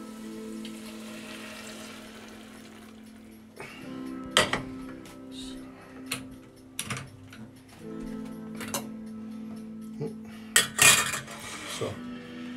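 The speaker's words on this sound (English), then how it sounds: "then you want to add the stock." Stock poured into a pot of polenta, a steady low pour with metallic clinks and taps of utensils against the pot, close and moderately quiet.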